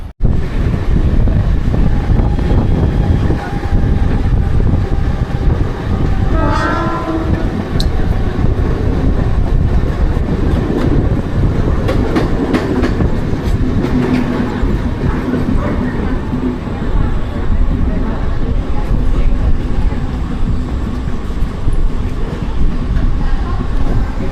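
A Mumbai harbour line local train rumbles loudly and continuously at Belapur station amid heavy wind noise, with a platform announcement voice and people talking.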